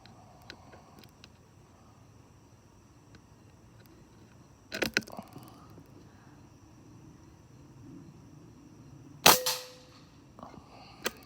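Two sharp cracks from a regulated .22 Benjamin Discovery air rifle, each a sudden loud snap followed by a short decay, spaced several seconds apart over a quiet background.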